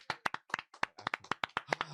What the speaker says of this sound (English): Clap it up for our 100th episode.